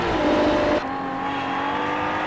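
A Ferrari race car in a racing video game, competing at Hockenheim, drones loudly and steadily before its engine note abruptly drops and settles into a lower, sustained whine.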